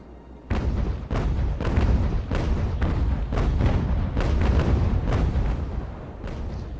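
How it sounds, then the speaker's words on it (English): Broadside cannon fire from sailing warships in Ultimate Admiral: Age of Sail, a rapid, irregular barrage of a dozen or so loud booming shots overlapping and rolling into each other, close and heavy. "I'll just switch to shooting the hull"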